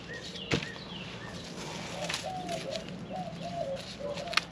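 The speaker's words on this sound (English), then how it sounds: "Birds are singing." Birds chirp and whistle in a backyard garden in spring, short repeated phrases a little distant against a soft background hush, with a sharp knock or two in between.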